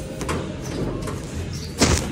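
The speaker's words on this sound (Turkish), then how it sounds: "Açacaklar şimdi kapıyı. Hadi bir açın." A house door being opened during a holiday visit: a short clack and rattle rises over a steady background hum and rumble, close by, with no talk.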